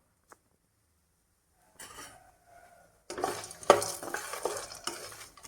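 Dry peanuts rattle and scrape in a hot pan as a spoon stirs them, with a faint sizzle and occasional clinks of metal against the pan.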